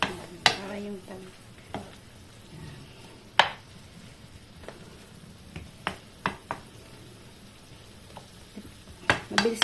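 Homegrown okra cooks in a pan after a splash of water, sizzling softly under scattered scrapes and clinks of a utensil stirring against the pan.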